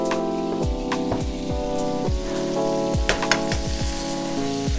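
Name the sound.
butter sizzling with salmon in a non-stick pan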